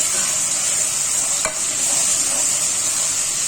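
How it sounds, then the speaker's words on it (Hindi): Ginger and garlic paste are stirred together, one tablespoon each, producing a steady soft scraping hiss with a single brief clink partway through; no voices are heard. "अब इन दोनों को अच्छी तरह हम मिक्स करेंगे"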